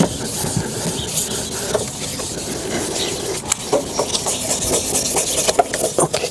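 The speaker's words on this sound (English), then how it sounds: "And keep wetting that sandpaper" Foggy car headlight being wet sanded by hand with sandpaper, a steady close rasping scrub with rhythmic strokes and occasional scraping bursts, no talking.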